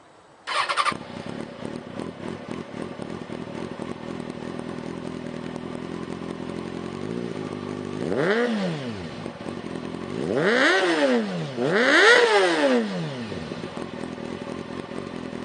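A 2006 Kawasaki Ninja 636 sportbike with a Yoshimura exhaust cranks and fires up, settles into a steady idle, then is revved three times in rising and falling sweeps, loud and close.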